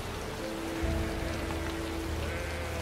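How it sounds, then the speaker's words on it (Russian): Steady rain pours down on a farm in the video game Gothic 2, a dense, even hiss that stays constant throughout with a low hum underneath and no talking. "Скорее бы дождь кончился."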